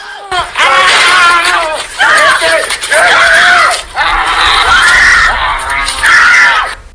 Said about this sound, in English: You can just hear her screaming the whole time.